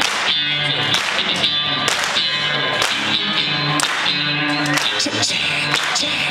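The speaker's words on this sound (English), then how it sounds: "Now clap like this." Sharp, rhythmic hand claps from a crowd keep time with a live band at a college concert, landing on a steady beat over loud music and singing.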